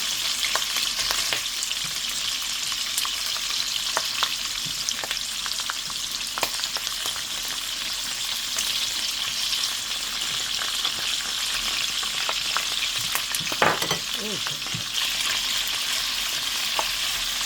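Crispy pork frying in its own rendered fat, with a steady, close crackling sizzle and sharp pops of splattering oil, plus occasional stirring sounds throughout.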